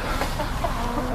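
A hen clucks softly and repeatedly in a brief noisy stretch, close by, with barnyard rustle around it.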